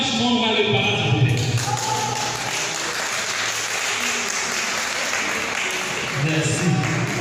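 Audience applause at a film projection event, sustained clapping from a gathered crowd that swells early and runs steadily throughout, with a voice speaking over it.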